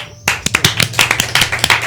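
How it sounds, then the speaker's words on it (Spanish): A few people applaud at the close of a Spanish-language interview programme: sharp, close handclaps starting abruptly, irregular and somewhat sparse, with no talk over them. "Un aplauso."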